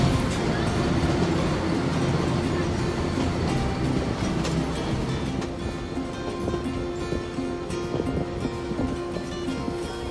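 Steady low rumble and rattling of India's Blue Mountain Express mountain train rolling between Ooty and Coonoor, continuous and fairly loud, with a faint hum of machinery throughout.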